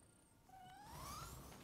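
A cat in the video game Nioh 2 lets out a single drawn-out, rising meow over a steady bed of game ambience and low rumble.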